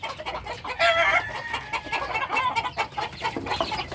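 Backyard chickens and chicks clucking and peeping close by in a busy, uneven chatter, with one brief crow-like call rising above the flock.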